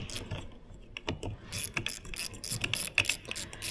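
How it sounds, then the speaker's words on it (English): A ratchet with a 10 mm socket loosens a car's wiper arm nut, giving close, uneven bursts of clicking pawl ratcheting and metallic tool handling, with no talk. "simple little 10 mil, gonna loosen this up"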